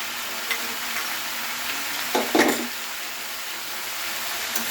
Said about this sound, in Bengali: মশলাটা দিয়ে ভালো করে নাড়িয়ে নিতে হবে যাতে মশলাটা সব জায়গায় লাগে আর কি। ভালো করে কষে নিচ্ছি।